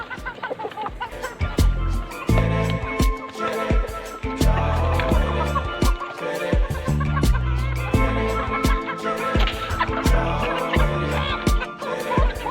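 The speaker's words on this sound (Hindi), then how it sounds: "इसके साथ ये मुर्गा मैंने लगाया है, लसानी मुर्गा है।" Chickens and a Lasani rooster in a cage, with steady clucking and rooster calls heard up close over a busy, continuous background, and someone talking intermittently alongside the birds.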